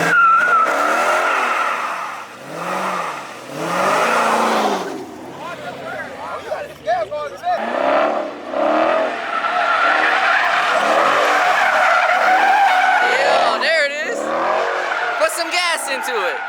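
A car drifts and slides, its tires squealing in long, loud, wavering skids with engine revving, close by, while people talk over it at times.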